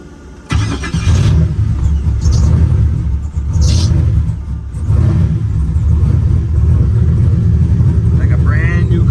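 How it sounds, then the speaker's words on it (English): A turbocharged LS2 Camaro engine cranks and fires on a cold start, catching quickly into a loud, steady, deep idle rumble that holds close for the rest of the stretch. "this is a cold start. Let me show you how easy this thing starts"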